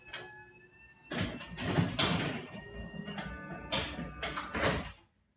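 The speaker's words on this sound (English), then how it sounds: "And the app's telling me the door is on its way down." Mastercraft 1HP WiFi garage door opener lowering the door, a steady mechanical rumble with a brief tonal whine, swelling and fading over several seconds before stopping abruptly.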